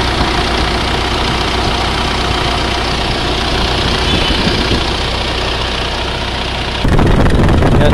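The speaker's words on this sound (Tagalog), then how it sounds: "bali nung nirektahan natin, kung makikita nyo, umiikot na yung compressor" A Mitsubishi Montero engine idles steadily and loud with the air-conditioning compressor clutch engaged and spinning, a constant mechanical drone that turns denser and louder near the end.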